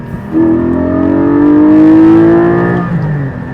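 Porsche 718 Spyder at full throttle, a loud close engine note climbing steadily in pitch for about two and a half seconds before easing off, with no talk.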